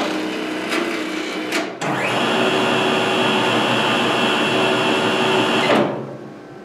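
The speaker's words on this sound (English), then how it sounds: "By running bypass mode, the sheet will run continuously through the machine and land on the bypass tray" A COUNT FC114ASP paper folding machine runs sheets continuously in bypass mode, its steady mechanical whir starting abruptly near two seconds and holding at a close, even level before stopping sharply near the end.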